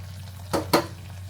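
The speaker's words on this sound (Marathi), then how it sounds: "झाकण देऊन ठेवते" A lid is set onto a cooking pot of prawn and ridge gourd curry, two quick metallic clanks close together over a steady low hum.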